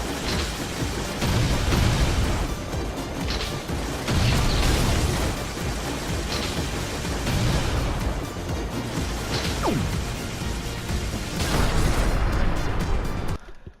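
A big cannon firing in the shoot-'em-up video game Sine Mora Ex on PS4, with dense, continuous booming explosions and crashing blasts layered over a loud game soundtrack, with no pause in the action.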